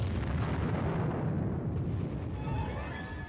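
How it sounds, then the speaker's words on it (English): Continuous artillery air bursts in a tank tactics exercise, a dense low rumble of distant detonations rolling together without distinct separate booms, fading slightly toward the end. "Under the cover of continued artillery air bursts, the team advances"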